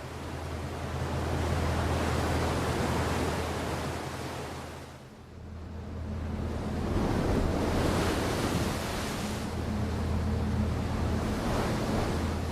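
Broadband ocean wash and surf roar steadily at sea while a ship crosses the Drake Passage toward Antarctica, with wind noise on the microphone and a brief lull midway.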